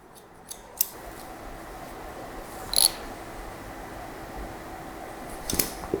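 Scissors snip through hair during a medium-length haircut, with just a few sparse, crisp, quiet cuts spread over a hushed room and no talking.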